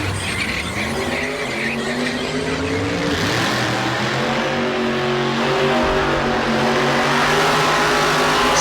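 Big tire drag race cars fire up at a Street Car Super Nationals event in Las Vegas, loud close engines revving and roaring continuously, with rising and falling pitch and a rough, blaring exhaust tone.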